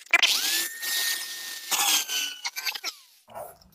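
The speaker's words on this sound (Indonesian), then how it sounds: "Ngebor paralonnya dengan menggunakan bor ini supaya lebih besar." A power drill bores through PVC pipe while a bin for rearing maggot compost is built: a close, whining motor pitch holds steady and then winds down, with scattered scraping and rattling around it.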